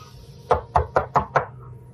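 Knuckles rap on a front door five times in a quick, even rhythm, each knock crisp and close, with quiet between the blows and no voices.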